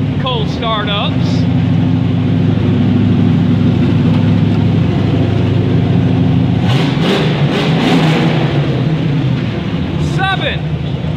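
A car engine cold-starting and idling loud and steady, with rough revving rising midway through, squeaky belt-like chirps near the start and end, all close to the microphone.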